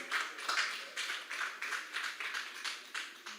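Audience applause for Bang Sem at a Betawi cultural village discussion, heard as fairly faint, steady rhythmic clapping in regular bursts that continues without a break.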